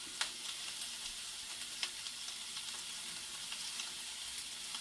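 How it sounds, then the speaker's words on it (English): Sausage sizzles steadily in a hot pan, a soft continuous hiss with occasional small pops and crackles. "you want to hear it sizzle when the meat hits the pan"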